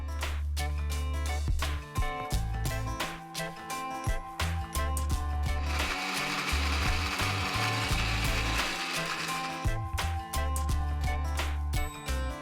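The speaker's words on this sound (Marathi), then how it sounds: "हे मिश्रण आपलं थंड झाल्यावर बारीक मिक्सरमध्ये वाटून घेऊया।" A kitchen mixer grinder runs on a cooled spice mixture with tamarind pulp, making a loud close rattling, clattering whir that comes in repeated pulses with brief stops between them.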